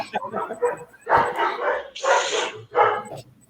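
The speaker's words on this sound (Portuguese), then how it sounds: "Olha os cachorros, oh meu Deus, cachorrada." Several dogs bark in repeated bursts, loud and close, with sharp yips between them and a person's voice heard in the gaps.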